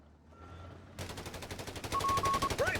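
Gunfire from a Company of Heroes 3 battle between American special operations troops and the German Afrika Korps: a dense, fast machine-gun burst breaks in after a quiet second and keeps rattling loudly to the end.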